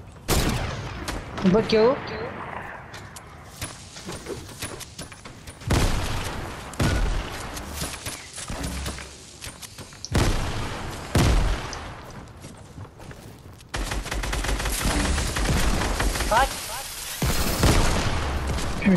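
Rapid gunfire bursts and explosive booms in a Fortnite match, including sniper shots, coming in loud clustered volleys with short gaps, while players talk excitedly over the action.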